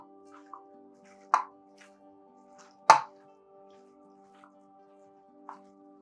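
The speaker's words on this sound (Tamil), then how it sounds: "அதையும் ஆட் பண்ணி நல்லா மிக்ஸ் பண்ணிக்கோங்க" Wet plops and squishes as chopped onion and green chili are mixed into momo filling, a few distinct soft hits spaced apart against a steady faint hum.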